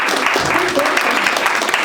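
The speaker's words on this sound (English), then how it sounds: "Let's clap better for Bina." A dinner audience claps for Bina, dense steady applause filling the room at close range, with some voices mixed into the crowd noise.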